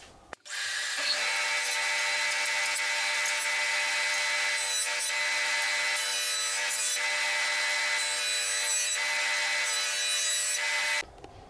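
A jointer with a multi-knife cutterhead and freshly replaced knives planes a wooden board with a steady, loud whirring cut that runs for about ten seconds, beginning and ending abruptly.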